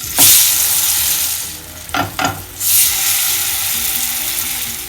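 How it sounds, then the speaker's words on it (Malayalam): Stuffed ripe bananas fry loudly in a pan of coconut oil and ghee, a close, steady sizzle with sharper crackling bursts as pieces are turned; no one speaks. "ഗോൾഡൻ കളർ ആവുന്നവരെ ഇതിൻ്റെ ഓരോ സൈഡും തിരിച്ചിട്ട് ഫ്രൈ ചെയ്തെടുക്കാം"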